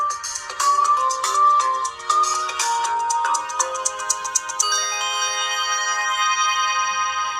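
Ringtone from a small Cellution Cosmas feature phone, a bright repeating electronic melody of quick chiming notes that plays loud and steady, shifting to sustained tones near the end, with no talking.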